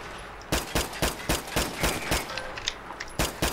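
Gunfire from the video game Fallout 4 (modded) rings out in a fast, fairly regular volley of sharp, loud shots, about a dozen in a few seconds with short gaps between.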